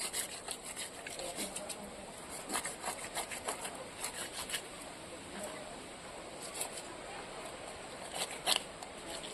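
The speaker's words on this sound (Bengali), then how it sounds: "এভাবে সব মাছের আঁশ আমি ছাড়িয়ে নেব।" Scales are scraped off small bata fish with quick, rhythmic rasping strokes, heard close but quiet, coming in short bursts with brief pauses between them.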